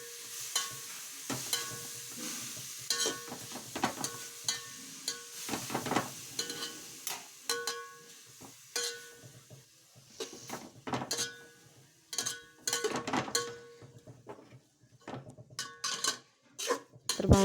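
Grated carrot halwa cooks in a heated pot, with a spoon scraping and stirring in irregular bursts and soft sizzling underneath, fairly faint and without talk.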